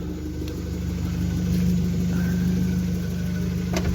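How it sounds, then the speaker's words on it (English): A high-mileage BMW 118d diesel engine idles steadily at close range, a smooth low hum with faint clicks and no revving. "And look at the engine, quiet as hell."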